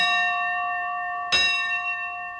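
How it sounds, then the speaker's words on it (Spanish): A textile factory's shift-change bell gives a single clear metallic strike, heard close against a sustained ringing hum from the bell, then decays slowly. "Esta campana señaló durante 168 años el cambio de turno de los trabajadores de esta fábrica textil"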